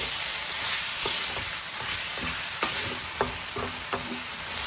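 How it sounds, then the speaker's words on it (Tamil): Chicken sautés in a pan for South Indian style chicken sukka, with a steady, loud sizzle running throughout and scraping stirs clicking in now and then, close by with no talking. "சிக்கனும் நல்லா வதங்கட்டும்."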